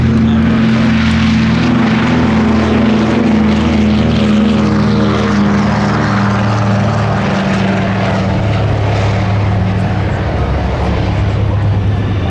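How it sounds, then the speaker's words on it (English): A Douglas C-47 propeller airplane takes off at an air show, its piston engines droning loud and steady with a pulsing propeller hum throughout, close to the listener. "Here comes the C-47 on takeoff."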